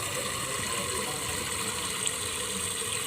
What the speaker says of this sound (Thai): แล้วเราก็เติมน้ำใหม่อีกครั้งหนึ่ง